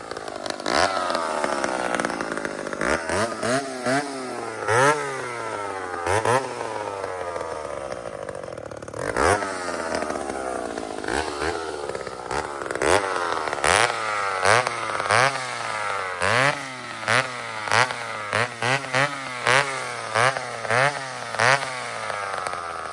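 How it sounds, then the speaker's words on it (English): A chainsaw blips and revs repeatedly, dropping back to a rough idle between short bursts of throttle, loud and close with no talking. "So, friends, this saw, it will idle all day. It'll just sit there and idle."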